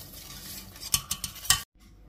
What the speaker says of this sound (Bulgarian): И го разбърквам. Сега добавям и ориз.